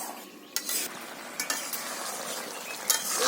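Vegetable stalks and lentils are stir-fried in a pan, a steady sizzle running throughout under a few sharp spatula scrapes against the pan, close and alone without talk.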